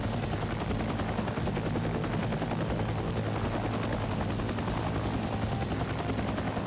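A small, nimble helicopter in the combat flight game Heliborne throbs with a dense, continuous rotor and engine roar, with a rapid crackle like gunfire mixed in.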